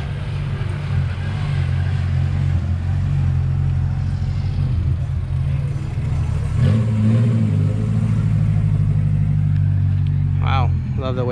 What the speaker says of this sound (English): Couple more cars rolling up.